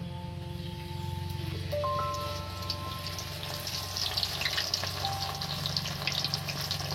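Chana dal namkeen dough fries in hot oil in a village-style home kitchen, a continuous bubbling sizzle with fine crackles and a faint steady hum underneath.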